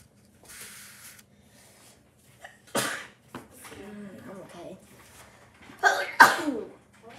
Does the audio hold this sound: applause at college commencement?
no